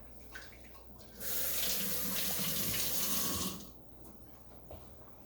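Hands being washed in warm sudsy water at a kitchen sink while boiling shrimp, a steady splashing and running-water rush about two seconds long, close by, with quiet room sound before and after.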